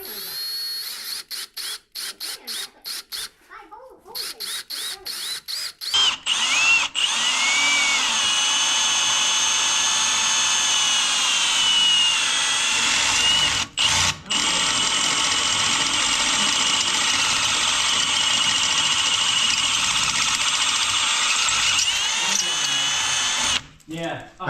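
Power drill boring holes during a skid plate install on a 2024 Turbo R, starting with short stuttering pulses, then a long loud sustained whine broken by a few brief stops.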